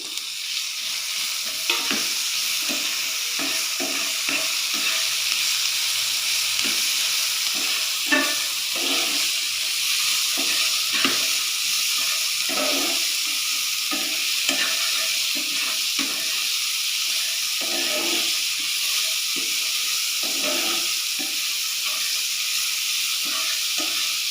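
Tomatoes for pasta fry and sizzle steadily in a hot pan, a continuous bright hiss broken by occasional stirring scrapes, close and loud with no talking.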